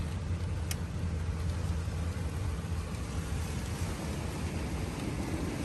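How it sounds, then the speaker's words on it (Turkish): Sudden heavy rain on a road trip through Texas, a dense, steady broadband wash of downpour with low rumble, likely heard from inside a car, continuous and loud throughout. "Birdenbire yağmur bastırdı ya."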